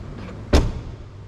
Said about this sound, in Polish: jak otwieram te drzwi, że jest zupełnie inny dźwięk